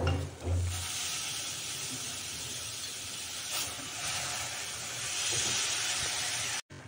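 Chopped tinda (dhemas) hits hot oil tempered with spices and garam masala, letting out a sharp burst of sizzle that settles into a continuous, fairly faint steamy hiss.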